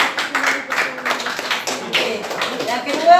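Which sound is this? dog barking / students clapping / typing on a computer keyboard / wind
students clapping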